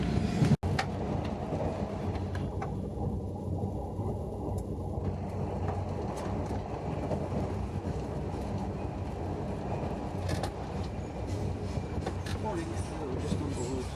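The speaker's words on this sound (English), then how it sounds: "We're just on board the train towards Glasgow." Steady rumble heard on board a train at Perth, Scotland, bound for Glasgow, rolling along the rails, a continuous low roar with faint rhythmic clatter throughout, loud and close.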